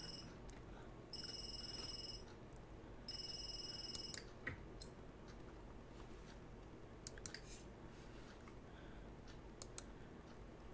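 Cellphone ringing in The Sims 3, two bursts of a bright electronic ringtone around one and three seconds, each lasting about a second, quiet over a low steady game background with scattered small clicks.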